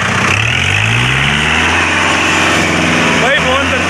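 Kubota four-cylinder tractor engine running loudly up close, a steady droning hum with rising harmonic tones as it revs, set against a field working with a rotavator.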